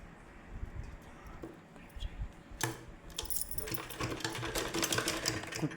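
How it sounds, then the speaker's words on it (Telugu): Sewing machine stitching piping onto fabric, quiet handling at first, then a sharp start and a steady fast run of stitching that grows louder toward the end. "కుట్టు ఎలా వేస్తాను చూడండి ఒకసారి"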